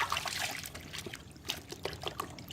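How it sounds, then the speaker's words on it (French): Water trickles and splashes softly as washed pineapples are rinsed in a basin of clearer water, a faint, uneven dribbling with small sloshes. "une fois lavés, les fruits sont rincés"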